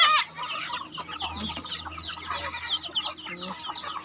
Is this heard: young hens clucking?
yes